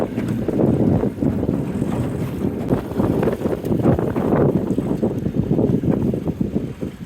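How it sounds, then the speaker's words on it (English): Strong wind buffets a fishing boat out on the water, a continuous loud rushing roar with microphone rumble and gusty fluctuations throughout, and no voices. "Wind's pretty rough on us today"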